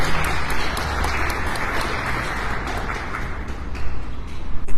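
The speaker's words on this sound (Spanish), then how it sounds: "Vamos a darle un fuerte aplauso" Loud, dense applause fills the room at a panel discussion on contemporary Latin American poetry, a steady wash of many hands clapping that holds for several seconds and swells slightly at the close.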